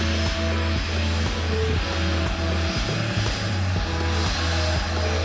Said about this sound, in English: Now that the plane is landing